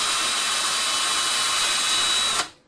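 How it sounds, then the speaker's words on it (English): A power drill with a 3/32 inch bit whines steadily at high speed, boring into a wooden dowel, then cuts off abruptly near the end. "Now I'm going to take a 3/32 inch bit and drill into the dowel."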